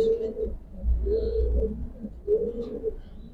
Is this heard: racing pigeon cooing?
yes